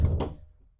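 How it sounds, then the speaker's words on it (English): An indoor door closes with a single dull thunk, followed by a faint light click as it settles. "let me close my door"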